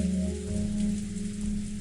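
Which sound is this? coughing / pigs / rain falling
rain falling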